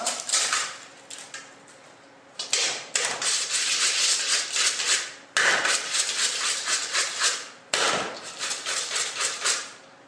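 Margarine being beaten soft in a bowl for a streusel topping, with a whisk or utensil rapidly clattering and scraping against the bowl in sustained bursts, interrupted by a few short pauses, close and loud.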